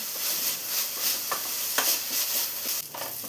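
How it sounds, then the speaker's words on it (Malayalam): Onions and green chillies sautéing in a pan for a chicken perattu, a continuous close sizzle with rhythmic stirring scrapes throughout, no voices. "ഇനി ഇതെല്ലാം കൂടെ ഉള്ളിയെല്ലാം കളറൊന്ന് മാറി വരുന്നവരെ വഴറ്റിയെടുക്കാം."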